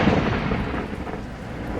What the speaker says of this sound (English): The storm is so loud.